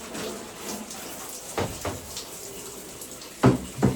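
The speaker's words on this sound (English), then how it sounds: "So what I'm going to do is turn the sprayer on." A water sprayer hisses steadily while rinsing refrigerator drawers during cleaning, a close continuous spray with a few louder splashes as the stream hits plastic, no talk.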